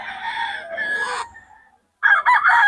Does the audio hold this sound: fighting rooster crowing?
yes